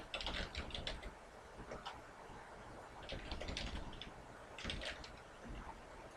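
Soft clicking keystrokes on a computer keyboard, quick irregular bursts of typing close to the microphone over faint room hiss, no talking.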